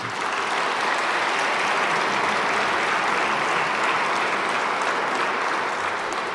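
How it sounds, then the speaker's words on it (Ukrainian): Large audience in a formal hall applauding Putin's speech, with a continuous, uniform wash of many hands clapping at steady loudness from start to finish, with no voices over it. "йому там стали аплодувати у цьому недорейху"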